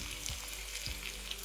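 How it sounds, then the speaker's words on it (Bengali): Cauliflower, potato, onion and garlic fry in a pan, giving a steady close sizzle with small crackles throughout, no voices. "এবার এই আলু আর পেঁয়াজের সাথে ফুলকপিটাকেও ভালো করে ভেজে নিতে হবে"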